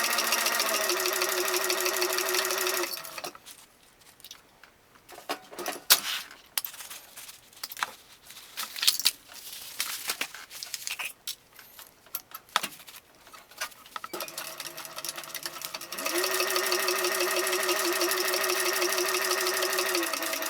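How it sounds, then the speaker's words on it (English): A sewing machine stitches a backpack seam in steady whirring runs at the start and end, with quieter handling sounds and soft clicks between the two runs. "I'll sew them at the same time at the machine."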